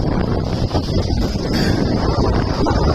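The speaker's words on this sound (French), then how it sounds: "Bon, ça souffle un peu plus fort." Loud, gusty north-northwest wind buffets the microphone in a constant roaring rush at a seaside surfcasting spot, with faint water sounds beneath.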